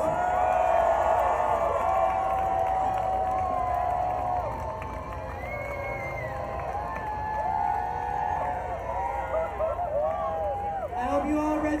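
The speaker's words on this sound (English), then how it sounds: "Give them a round of applause!" A pride parade crowd cheers and whoops with scattered clapping, a loud outdoor roar with rising shouts and whistles throughout.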